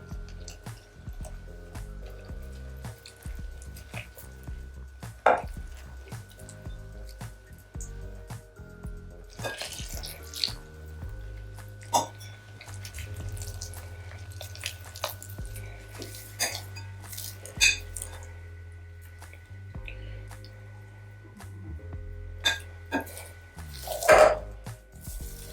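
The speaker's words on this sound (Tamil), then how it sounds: "இப்போ வேணுங்கிற அளவு தண்ணி ஊற்றி நம்ம பிணைஞ்சிக்கலாம்" Wheat roti dough is mixed and kneaded by hand with added water in a home kitchen. Soft squishing and dull thumps come steadily over a low background hum, with occasional sharp clinks from a bowl or utensil. No one speaks.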